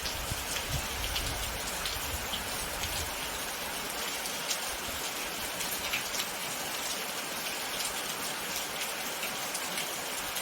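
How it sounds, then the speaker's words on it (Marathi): Heavy monsoon rain pours down steadily, a dense, unbroken hiss of drops hitting surfaces all around, loud and close with no let-up. "आताच पावसाने मुसळधार पाऊस आला"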